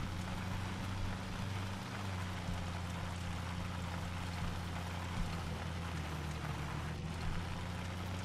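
A slow vehicle's engine drones steadily in the vehicle combat video game Crossout, a constant low rumbling hum with no pauses or talking.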